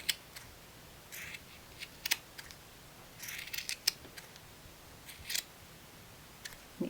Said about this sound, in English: And then I take my scissors and I trim.